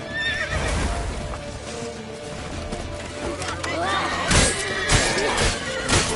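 In The Witcher video game, a horse neighs and whinnies near the end while hooves clop, amid a busy, noisy scene with voices.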